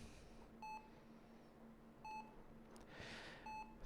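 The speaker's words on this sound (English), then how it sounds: "Our scene opens up with the somber beeps of a heart monitor" A heart monitor in a small, cramped hospital room gives three evenly spaced, faint electronic beeps over a low steady hum, soft and somber with a brief hiss between them.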